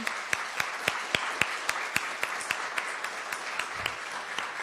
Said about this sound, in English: Can we get a round of applause for all our candidates this evening?